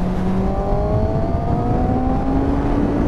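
A Yamaha MT-10 SP sport motorcycle being ridden, its engine droning steadily and loudly with gradually rising pitch, wind rush throughout and no talking.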